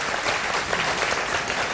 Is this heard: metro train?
no